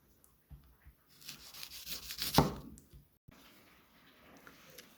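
A thick-bladed, hollow-ground Entrek Bravo 11 knife drags through material in one slicing stroke, a close, rough rubbing scrape that builds for about two seconds and then stops abruptly.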